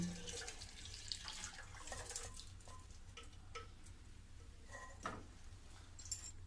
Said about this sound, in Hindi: देखो मैं एक छन्नी ली हूँ और इसी में मैं इस प्रकार से डाल दूँगी।